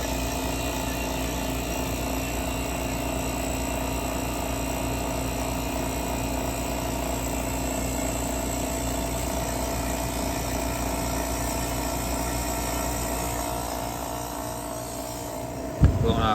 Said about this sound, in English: Compressor sounds great.